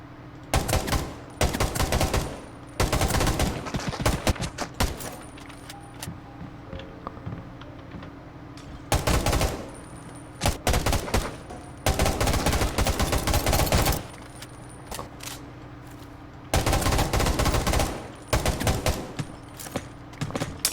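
Rapid bursts of automatic gunfire from the video game Undawn come in several clusters, separated by short pauses, with soft clicking between bursts.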